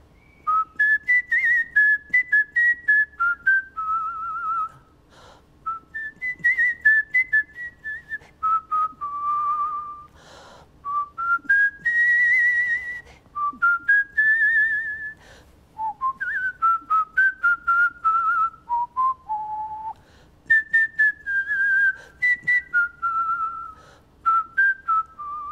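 A person whistles a love theme solo, a clear, loud melody of sustained and trilled notes phrased across the whole passage with brief breaths between lines.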